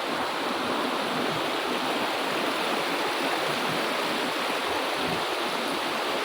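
A clear, unpolluted river stream in South Aceh rushes steadily, a dense, continuous wash of flowing water heard up close with no voices or breaks.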